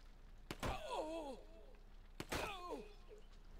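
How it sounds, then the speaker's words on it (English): Two muffled silenced-pistol shots in the tactical game Silent Storm, each a short sharp thump followed by a brief whooshing tail, about two seconds apart, over a quiet background. "Let's shoot him with silence pistol."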